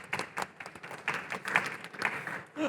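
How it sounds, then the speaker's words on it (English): Audience clapping for a speaker at a London climate technology show, a short burst of fairly close applause that fades out within a few seconds. "A clap to Connor, please."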